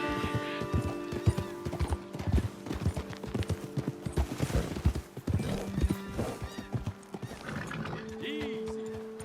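Horses' hooves clip-clop in a steady walking rhythm during a video game ride, with a horse neighing and game music underneath.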